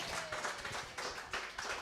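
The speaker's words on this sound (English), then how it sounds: "Can you please clap for that great" Studio audience clapping after a story on a talk show, a steady, fairly faint patter of hands lasting a couple of seconds.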